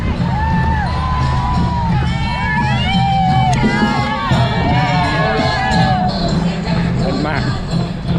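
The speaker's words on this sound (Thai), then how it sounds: "มีกองเชียร์ด้วย" A crowd of supporters cheers runners at the Nakhon Phanom–Khammouane Marathon 2022 in pre-dawn darkness, with continuous shouting, whoops and whistle-like calls over a dense, loud babble.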